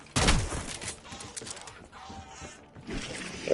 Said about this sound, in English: Look how good that shotgun is.